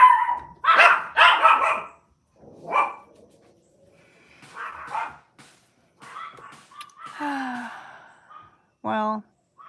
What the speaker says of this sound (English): there's no live stream without the dogs going off, right?